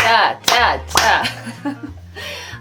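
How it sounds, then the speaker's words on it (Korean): A few sharp, loud hand claps ring out at roughly half-second intervals, mixed in with someone talking nearby during an indoor beauty-cream presentation. "박수 치라고 했어"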